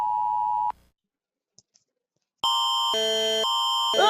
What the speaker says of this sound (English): Okay, that's enough with the beeping.